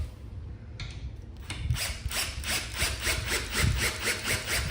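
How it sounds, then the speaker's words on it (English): A power drill drives a screw into eucalyptus wood patio furniture with a rapid, rhythmic grinding chatter that builds and continues steadily, close and fairly loud. "Grab your drill."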